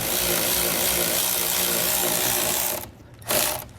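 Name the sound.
ratchet removing bolts on trailer equalizer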